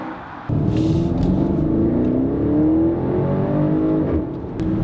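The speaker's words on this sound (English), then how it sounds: "Nice crackles on the upshifts." A 2019 BMW X5 50i M Sport with a 4.4L V8 pulls hard through the gears, a loud continuous engine roar rising in pitch after a sudden onset, with brief exhaust crackles on the upshifts and no talk.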